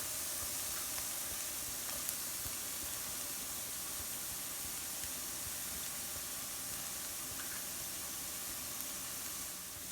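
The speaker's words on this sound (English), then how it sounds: "stir our garlic into the onions and peppers and let that cook for a minute or so" Garlic sizzles in a pan with onions and peppers, a steady, even hiss of frying that continues without a break at moderate volume.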